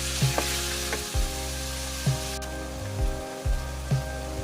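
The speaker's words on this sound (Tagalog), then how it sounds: "Igisa lang muna natin guys hanggang matanggal yung katas-katas niya." Ground pork sautés in a pan, cooked together with mushrooms and snow peas, in a steady loud sizzle, with a few soft stirring knocks spaced about a second apart.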